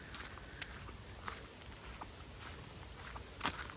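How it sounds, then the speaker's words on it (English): Heavy rain after three days of downpour, falling on a canal as a steady, dense hiss with scattered patters, faint and continuous with no voices. "God knows where this rain's come from."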